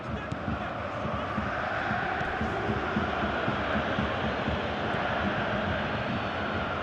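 A stadium crowd roars steadily in the football video game PES 2018 during a Bayern Munich versus Mönchengladbach match, a dense continuous wash of noise without pauses.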